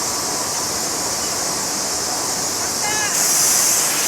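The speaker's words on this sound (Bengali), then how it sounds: "ঝর্ণাটা দেখতে খুবই চমৎকার আসলে।" Waterfall at Gulong Canyon in Guangzhou, a steady broad roar of falling water heard continuously and fairly loud, with a brief faint whistle-like tone near the end.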